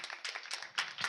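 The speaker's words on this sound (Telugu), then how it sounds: "గట్టిగా చప్పట్లు కొడదాం." A congregation claps at a church birthday celebration, a short burst of clustered hand claps in uneven pulses with no voices.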